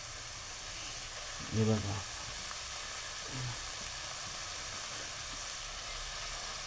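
Leafy greens and potato cooking in their own steam give off a faint, even hiss that never lets up, with a brief spoken phrase early on.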